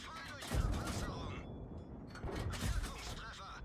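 Tank cannon fire in the World of Tanks video game: two heavy booming shots with a rumbling tail, a few seconds apart, fairly quiet overall.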